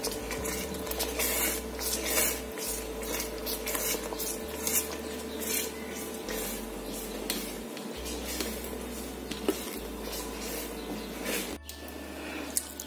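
Spaghetti tossed and stirred into a carbonara sauce with salmon in a pan, giving soft continuous scraping, squishing and utensil clinks against the pan at close range, alone with no talk.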